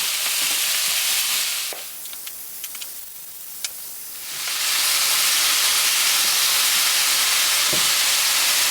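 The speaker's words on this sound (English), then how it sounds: "we're going to drop in the chicken for it to fry up" Loud, steady frying sizzle of chicken in a pan that drops away briefly in the middle, leaving a few faint clicks, then returns to a dense, hissing crackle.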